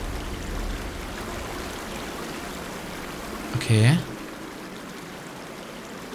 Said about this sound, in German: Aus dem kaputten Rohr fließt Wasser.